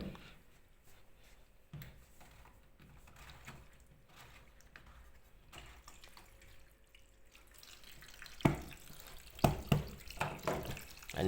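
Water from an LG washing machine slowly emptied onto a towel: faint trickling and splashing in quiet spurts, swelling into louder intermittent gushes toward the end, close by with no talk.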